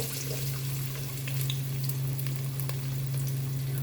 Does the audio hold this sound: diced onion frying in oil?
yes